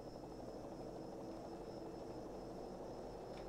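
A helicopter drones steadily overhead with a low, continuous rotor rumble in a sim-racing game, at Sonoma in Spec-Firebird cars, faint and constant throughout.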